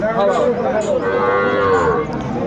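A single long, loud cow moo close by at the Aftabganj cattle market, rising and falling over about two seconds, with no talking.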